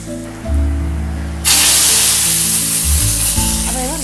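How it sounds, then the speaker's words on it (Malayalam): A hot tempering of curry leaves and dried chilli with asafoetida is poured into a taro-leaf tamarind curry, setting off a loud, sudden burst of sizzling and hissing that carries on strongly to the end, with no talk over it. "എന്നിട്ട് ലാസ്റ്റ് നമുക്കിതിലേക്ക് സ്വല്പം കായപ്പൊടിയും കൂടി ഇട്ട് കൊടുത്ത് ഇതിലേക്കങ്ങ് ഒഴിച്ചു കൊടുക്കാം."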